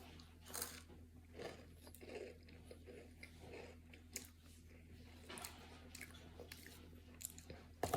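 Someone bites into and chews a homemade lemon sugar cookie up close, giving soft crunches and moist mouth sounds in an irregular rhythm over a quiet, faintly humming room.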